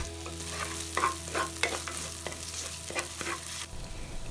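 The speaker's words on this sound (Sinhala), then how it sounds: "මේ ටික හොඳට තෙලේ ටෙම්පරාදු කරගන්න ඕන." Spice paste of goraka, pepper, garlic and salt frying in oil for a village-style fish curry, a steady close sizzle broken by repeated scraping stirs of the spoon, with no voices.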